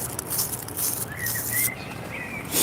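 A blackbird sings outdoors on a historic town walk in Alnwick, its clear whistled phrases moderately near and repeating over steady wind and outdoor hiss, with no talk.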